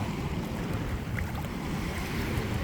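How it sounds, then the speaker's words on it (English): Water moves and washes steadily outdoors in nature, a soft continuous surf-like rush mixed with wind noise on the microphone, with no talking. "because the soft movement of the water helps"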